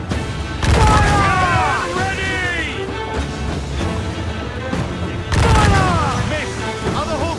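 Ship cannons fire in a bombardment on a warship in Assassin's Creed Black Flag: two loud booming volleys several seconds apart, each a cluster of blasts with crashing debris. Excited voices and a whistling shell sound run underneath.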